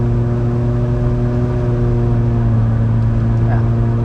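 A Volvo 940 fitted with a 2JZ VVT-i engine running on LPG holds a steady, loud drone with its engine note sustained close by throughout.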